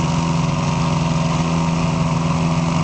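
A Red Baron airplane engine runs at a steady, close, buzzing drone on an airfield as power is added before takeoff, with no voices over it.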